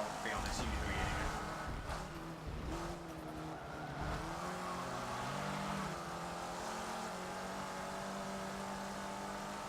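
Dodge SRT race car engine in the racing game Forza Motorsport 7, a steady loud drone with shifting pitch and brief tire squeal, heard under continuous talking.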